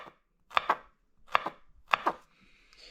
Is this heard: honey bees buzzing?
no